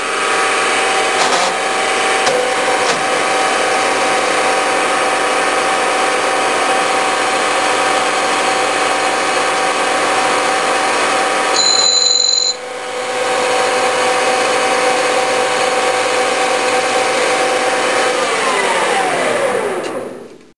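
Steady, loud machining of a performance pop-up piston on a lathe, cutting the final pass to thin the piston crown; a continuous tool whine runs almost unbroken for about twenty seconds, with a brief high tonal squeal near the middle.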